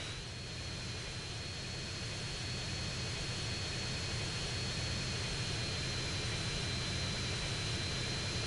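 A jet aircraft engine drones steadily and loudly in flight in GTA San Andreas – The Definitive Edition, a constant broadband roar with a faint high whine throughout and no voices.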